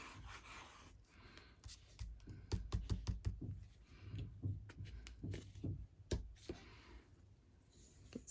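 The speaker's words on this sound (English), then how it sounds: "Someone's bashing upstairs," Muffled, irregular thumps and knocks come from someone bashing about in a room upstairs, heard faintly indoors as scattered low impacts with some light clicking.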